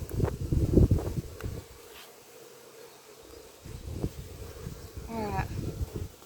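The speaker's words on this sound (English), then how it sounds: "Got a lot of bees here." Honeybees buzz around a freshly installed nucleus hive, a thin insect hum rising here and there amid wind noise and close handling thumps.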